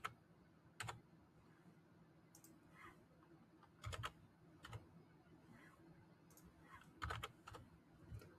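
Scattered keyboard typing as words are entered into flex cards in an online learning app: short, sparse bursts of key clicks separated by quiet gaps, faint and close, with no one talking.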